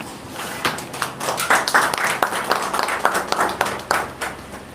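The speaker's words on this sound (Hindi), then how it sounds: "क्यों ना हम परमेश्वर के लिए जोरदार तालियां दें।" A church congregation at a Sunday evening service claps, starting light and building to loud, uneven applause with scattered sharp claps, fairly close.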